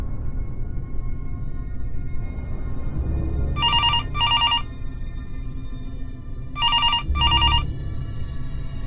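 A telephone rings in two double bursts, each pair of electronic trills sounding clearly over a steady low hum, with a pause between the pairs while calling a clinic.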